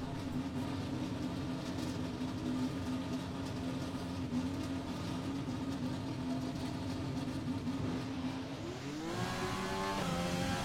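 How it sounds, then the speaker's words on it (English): A racing car engine in a driving video game roars as the car pulls out of the garage, a loud steady drone that climbs sharply in pitch near the end as it accelerates, with no talk. "the engine roars into life behind us as we head out of the garage"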